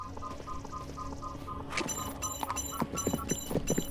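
A horse in the video game Shadows over Silesia clip-clops along at a steady walking pace, its close, clear hoofbeats setting in after a moment over a low game ambience; no one talks.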